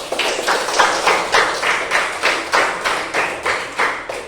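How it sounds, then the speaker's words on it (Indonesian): A classroom of students gives a round of applause in a lively, regular rhythm of loud, close clapping bursts that holds steady throughout. "berikan tepuk tangan dulu dong"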